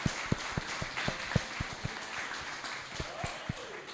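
A church congregation claps during a worship service, a steady run of sharp hand claps in a roughly rhythmic beat over a roomy background murmur.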